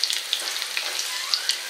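Squash patties coated in cornmeal and flour fry in a pan, giving a steady bright crackling sizzle with scattered sharp pops, close and even throughout.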